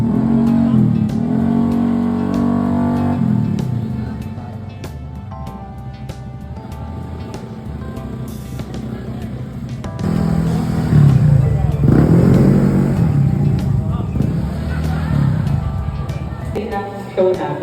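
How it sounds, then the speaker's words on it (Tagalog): Motorcycles rev at a crowded motorcycle show, loud engine blips and swelling revs rising and falling in bursts with a lull midway, over background crowd noise and nearby talk. "Ang daming mga motor."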